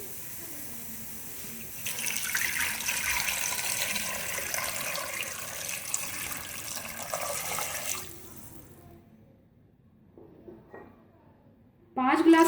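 Water gushes steadily from a tap into a pressure cooker holding goat trotters for several seconds, then stops abruptly, followed by quieter clinks and a loud clatter at the end.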